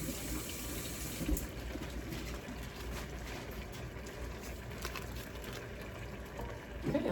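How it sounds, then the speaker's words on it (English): A kitchen tap runs steadily while water heats up during meatball cooking, a constant soft splashing stream with a faint clunk near the start and a brief rustle at the end, no talking. "Letting the water get hot over there."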